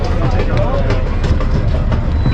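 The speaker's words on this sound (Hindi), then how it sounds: "और ट्रेन रुकी यहाँ पर" The Sandal Express passenger train runs on rails between Sargodha and Jhang Sadar, a steady loud rumble with faint rhythmic clatter filling the whole span, heard from on board with a crowd murmuring in the background.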